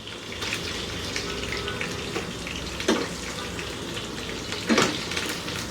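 Chicken pieces for Lebanese lemon garlic chicken sizzle steadily in hot oil in a pan, a soft continuous crackle with a couple of brief louder spits.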